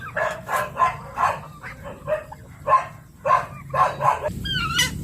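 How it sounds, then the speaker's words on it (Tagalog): A dog barks repeatedly in a steady series of loud, close yaps, followed by a brief squeaky yelp at the end. "Ingay ng aso."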